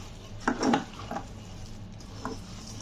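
Khichuri ingredients being kneaded and mixed by hand in a cooking pot: a few soft, scattered squishing and scraping touches against the pot, fairly faint and brief, with a quiet background and no talk.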